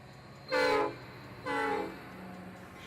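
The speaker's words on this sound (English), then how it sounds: "this Iowa Interstate train passing northbound by Blue Island Station will be entering the yard in just a few hundred feet" An Iowa Interstate freight train passing northbound by Blue Island Station near Chicago sounds two loud horn blasts, the first short and the second slightly longer, over a low rail rumble.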